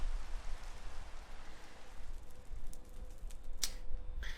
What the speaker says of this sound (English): Well, there goes that rain that you were saying was lasting so long.